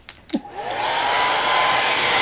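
A hair dryer switches on after a couple of brief knocks and blows steadily and loudly, drying fresh acrylic paint on a snowman painting.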